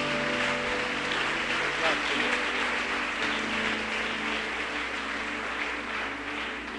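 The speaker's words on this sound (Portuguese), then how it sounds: "Aplauda Jesus mais uma vez" A church congregation claps together in a sustained, dense wash of applause that fills the room, with a voice and faint tonal sounds running over it.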